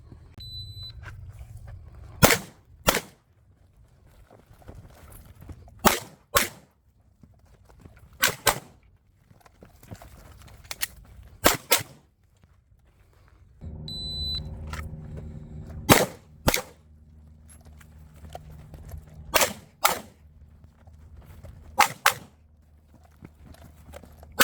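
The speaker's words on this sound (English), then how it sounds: "shooting around cover on target number 2 from position number 4" Pistol shots crack out during a USPSA practical shooting stage, sharp close reports fired in quick pairs and small groups with short pauses between strings, over a low outdoor rumble.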